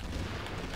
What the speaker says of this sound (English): I'm getting hit by invisible grenades!